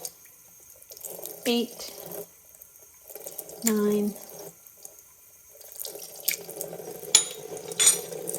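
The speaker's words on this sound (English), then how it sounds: "10 tablespoons of water into 10 pounds of sugar" Water poured into a large batch of sugar for a winter bee candy board, heard as short splashy trickles in separate bursts between quiet gaps while a person counts aloud.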